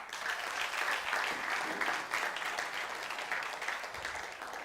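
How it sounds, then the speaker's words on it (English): An audience at a TEDx event at Nile University of Nigeria applauds steadily and fairly faintly, a dense continuous patter of many hands lasting throughout with no talk over it. "Please clap for her."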